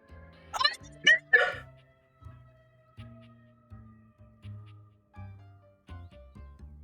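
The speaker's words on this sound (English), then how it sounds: "A strange creature that oh looks my and sounds god. like a soapy little dog jumps up at your legs, yapping and barking" A soap-bar dog creature in the video game Date Everything gives a few sharp yappy barks, followed by a series of short, low cartoonish yips and bleats, while a person talks over it.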